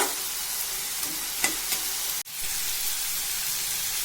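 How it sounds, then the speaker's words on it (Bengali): Spice paste frying in oil in a pan while small fish chorchori is cooked, being stirred until the oil separates; a steady close sizzle with a couple of light stirring scrapes and a brief clatter near the middle. "মশলাটা আমি খুব ভালোভাবে কষিয়ে নেব যতক্ষণ না তেল ছাড়ছে"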